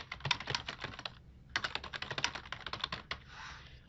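Rapid typing on a computer keyboard, two bursts of close, crisp key clicks separated by a short pause, with no talking.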